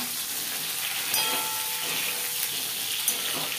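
Eggplant pieces frying in oil in a pan, a steady loud sizzle and hiss throughout with faint stirring clicks, no voices.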